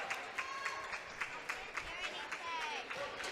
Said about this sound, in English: And the Mosinee fans come to their feet. They're cheering on their regional champions.